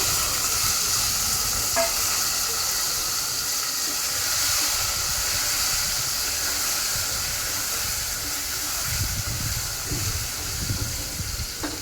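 Stuffed eggplants frying in a pan for a gutti vankaya curry, giving a steady close sizzle with faint bubbling and occasional stirring clinks throughout, no voices.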